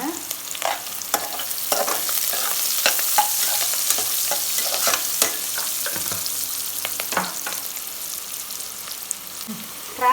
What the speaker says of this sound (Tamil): வெங்காயம் நல்லா வதங்கிட்டுங்க கொஞ்சம் மஞ்சள் தூள் போட்டுக்கலாங்க